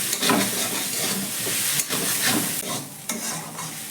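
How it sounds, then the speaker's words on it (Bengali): Grated potato stuffing stirred in a hot pan for a tiffin recipe, with close scraping strokes in bursts over a sizzling hiss. "ভালো করে আবারও একটু নাড়াচাড়া করে নেব।"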